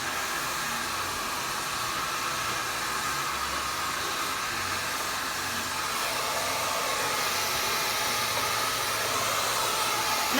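A hair dryer runs steadily while blow-drying medium-length hair, a close, continuous airy roar with a slight rise in intensity near the end, no voices.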